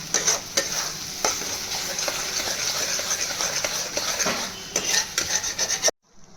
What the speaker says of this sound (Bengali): অনবরত কষতে হবে, না কষলেই তলা লেগে যাবে।